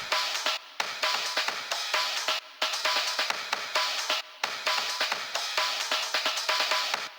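A looping drum break plays alone, punchy and bright, with abrupt cuts and short gaps where it has been chopped and rearranged.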